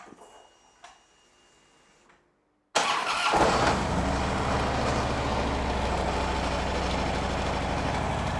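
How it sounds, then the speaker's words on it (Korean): A 2011 Harley-Davidson Road King with an aftermarket tuned muffler catches after a quiet pause and settles into a steady, loud, close idle rumble, with no talking over it. "일단 뭐 튜닝 머플러의 배기 사운드 한번 들어보고요."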